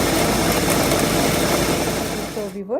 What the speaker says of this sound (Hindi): अब हम इसको ग्राइंड कर लेते हैं।